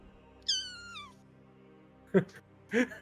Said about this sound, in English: I assume everyone also heard the kitty squealing and not me.